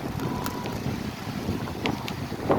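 Strong wind at Fort Myers Beach, Florida, roaring steadily into the microphone as a constant loud rush with gusty buffeting throughout.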